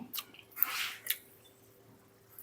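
Soft wet chewing of baked pork belly with glass noodles during tasting, a few quiet squishy bites and mouth clicks at close range with no talking.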